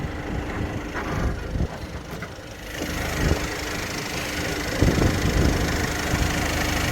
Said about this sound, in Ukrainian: мотор нормально чисто працює